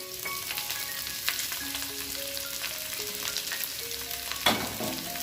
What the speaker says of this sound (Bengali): আমরা ভেজে রাখা ফুলকপিটাও দিয়ে দেব।